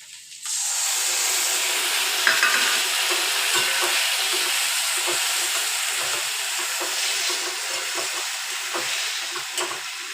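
Cumin, ginger and green chilli paste hitting a pan of fried potatoes, bursting into a sudden loud, steady steamy sizzle that holds evenly for several seconds, with faint stirring taps beneath and no talking.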